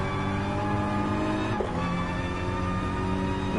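Engine of a BMW M4 coupe race car in a PS4 racing game, a steady loud drone with shifting pitch and a brief gear-change dip midway, racing alongside an Aston Martin.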